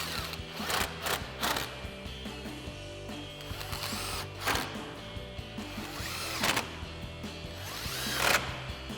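An impact driver with a 10mm socket runs four 10mm screws back into a 2021-2023 Ford F-150 headlight. Several short, fairly close mechanical whirring bursts are spaced across the clip over a steady workshop background.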